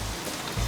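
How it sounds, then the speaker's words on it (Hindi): Heavy rain pouring down as a loud, dense hiss of drops on surfaces, continuous throughout with a low rumble swelling near the end. "यहाँ इतनी बरसात हो रही है"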